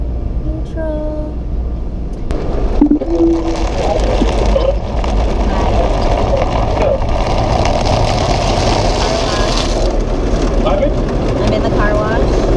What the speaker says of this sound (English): I'm in the car wash. Oh yeah, I can hear the car wash.